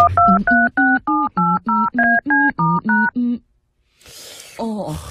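Telephone keypad dialing: about eleven crisp, evenly spaced tone beeps in quick succession, loud and close, followed by a short pause and a brief burst of talk.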